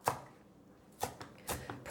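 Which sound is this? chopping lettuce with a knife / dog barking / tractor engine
chopping lettuce with a knife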